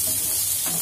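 Pumpkin pieces frying in a pan for fried rice, giving a steady soft sizzle with light stirring throughout a short moment.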